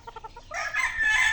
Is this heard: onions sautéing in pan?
no